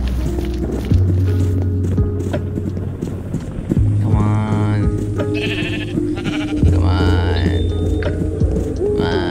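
Sheep bleat in a video game, several wavering cries rising over busy game sounds and a steady low tone, with hoof-like clopping and someone talking over much of it.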